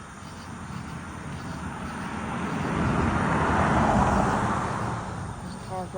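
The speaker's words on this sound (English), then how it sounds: "There's a car." A car drives past at night, its broad road noise swelling to a peak in the middle and then fading away, heard from the roadside at moderate distance.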